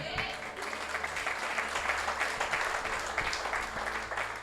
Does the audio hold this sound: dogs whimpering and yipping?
no